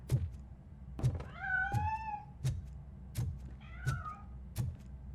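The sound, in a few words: cat meowing, from the video game Robocop Rogue City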